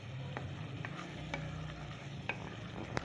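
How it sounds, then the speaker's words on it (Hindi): Cumin and spices sizzling as they fry in hot oil for a Bengali-style chicken gizzard curry, with a steady frying hiss and repeated scraping stirs of a spoon across the pan, close up and without talk. "अब अच्छी तरह ना भूनती हूँ उसे"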